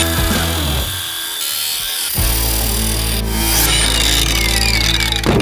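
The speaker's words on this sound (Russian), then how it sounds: "Остается только болгарка." Angle grinder cutting through bolts on an armored cash-transport car, a loud continuous metallic grinding whine that shifts pitch as the disc bites, with no talking.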